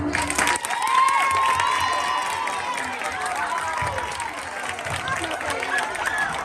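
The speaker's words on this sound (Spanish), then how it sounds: "A quen lle gustou que aplauda, por favor?" A school Christmas festival crowd applauds and cheers loudly, with young voices shouting and whooping over dense clapping that swells early and stays strong throughout.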